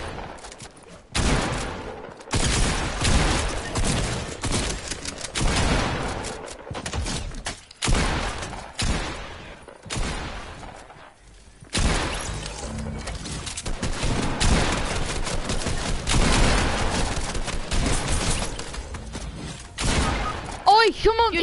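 Video game gunfight with bursts of rapid gunfire arriving in loud, choppy clusters separated by short pauses, while a voice talks over the shooting.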